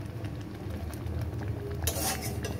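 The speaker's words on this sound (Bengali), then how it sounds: "এটাকে এখন মাঝে মাঝে একটু নাড়তে হবে, না হলে নিচে লেগে যাবে।" An egg tadka is stirred in a pan, giving soft scraping and clinks of a utensil against the pan over a low, steady frying sizzle, with a brighter clatter near the end.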